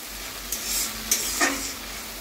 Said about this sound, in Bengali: গ্যাসটা জোরে দিয়ে ভালো করে নাড়তে থাকবো